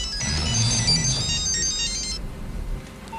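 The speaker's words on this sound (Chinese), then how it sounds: "电话你要不要接啊" A mobile phone plays a loud melodic ringtone with bright, repeating tones for about two seconds before it cuts off, leaving a quieter room.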